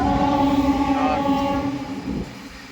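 A Vasco–Patna passenger train runs through Goa on the Konkan Railway, heading from South to North Goa, giving a steady close rumble with sustained tonal hum that eases slightly near the end, no speech over it.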